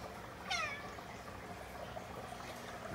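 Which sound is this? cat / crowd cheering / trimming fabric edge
cat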